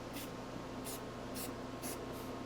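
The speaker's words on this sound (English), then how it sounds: "I'm just going to take some flat black Rust-Oleum. I'm just going to rattle can some action in here" Flat black Rust-Oleum sprays from a rattle can into a rusted-out door on a Chevy C10 Stepside truck, in five short hissing bursts spaced evenly apart over a quiet background.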